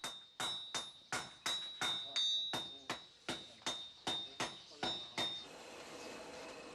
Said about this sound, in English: Their hammering teamwork is quite impressive.